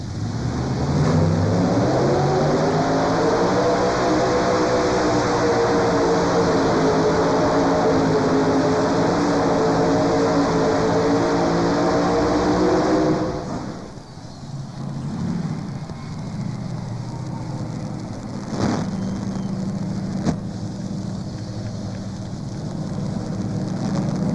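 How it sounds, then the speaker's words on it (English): Chevrolet engines in an Engler chassis roar at a pull at the 1992 National Farm Machinery Show, a loud, sustained, close drone climbing steadily in pitch before cutting away to a quieter, rumbling arena background with a few knocks. "Running those Chevrolet motors."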